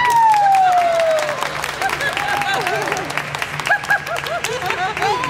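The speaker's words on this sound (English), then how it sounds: "Give a warm round of applause for Councillor Rohan Neppert." Audience applause fills an exhibition opening-day ceremony, a steady spread of clapping at moderate level that gradually thins, with voices speaking over it throughout.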